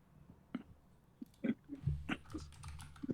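Scattered keystrokes on a computer keyboard as a song name is typed, a few irregular clicks and short bursts, soft and close, with low background rumble.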